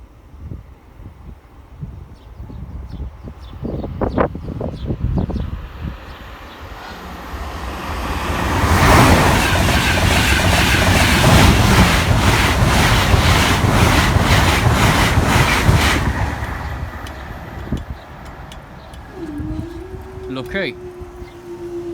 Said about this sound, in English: train 1 shortly coming from this way with train 2 coming from behind